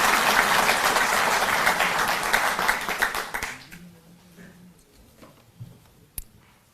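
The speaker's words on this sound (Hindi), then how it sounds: "हम जोरदार तालियों से शामिल हैं" A crowd at a Delhi government ceremony applauds for a flower-bouquet welcome of the chief minister, dense clapping for about three and a half seconds before it trails off into near silence with a few scattered clicks.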